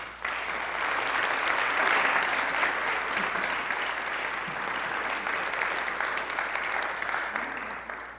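A lecture-hall audience at a university political forum applauds warmly, a full steady wash of clapping that swells early and tapers slightly toward the end.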